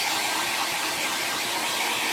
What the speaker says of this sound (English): dry off a bit more with the hairdryer